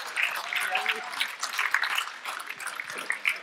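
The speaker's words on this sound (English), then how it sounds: "We need a good round of applause for the lady here." Applause from a literary festival audience for a woman panelist, a thin, steady patter of clapping at moderate distance that fills the whole stretch with uneven swells.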